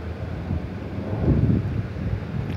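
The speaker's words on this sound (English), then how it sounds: "It's like windy" Steady wind buffets the microphone outdoors under graying clouds before a storm, a low continuous rumble that swells briefly in the middle, with no voices.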